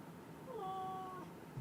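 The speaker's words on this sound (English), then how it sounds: "Let me get my cat out of here." A house cat gives a single drawn-out meow, close but fairly soft, against faint room background with no talking during it.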